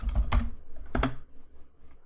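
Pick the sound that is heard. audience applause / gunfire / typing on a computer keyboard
typing on a computer keyboard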